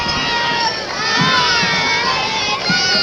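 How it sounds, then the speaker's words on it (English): A crowd of children shouts and cheers along a parade route, a continuous excited roar of young voices with occasional louder yells, close and lively. "And you can just hear the kids watching."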